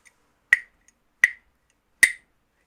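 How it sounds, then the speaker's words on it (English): A hand-held percussion clicker from the Ghanaian tradition, known as a thumb or grelo, struck three times at roughly even intervals; each click is crisp, bright and close with a short ringing decay in otherwise silence. "And then here's the clicker. So that is one sound only."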